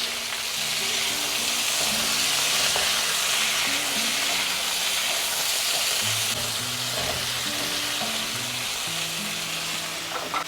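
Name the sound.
potatoes frying in a pan, tossed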